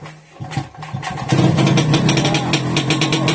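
A Tula TMZ-5.951 all-terrain motorcycle with an electrical short that makes it stall turns over and catches, sputtering then settling into a loud, rapid, uneven idle close by.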